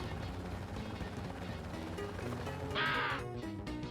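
An enemy in the Pac-Man World Re-Pac game gives a short, bright, crow-like caw near the end, rising over a dense bed of game music and effects.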